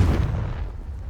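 Confringo fire spell blast from Hogwarts Legacy: a single heavy, booming burst at the start with a rumbling low tail that fades slowly, loud and close, with no voices.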